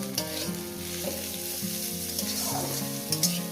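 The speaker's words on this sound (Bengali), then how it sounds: "কাঁচা মরিচটা দিয়ে দিলাম এটাকে আমি পেঁয়াজের সঙ্গে ভেজে নেব" Green chili fries with onion in a hot pan, giving a dense, continuous close sizzle with a few light stirring knocks, no voices.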